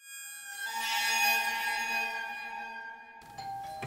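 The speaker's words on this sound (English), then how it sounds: "The doorbell doesn't usually ring." A doorbell rings a single clear ding-dong chime, ringing out and fading, with a faint clatter at the end.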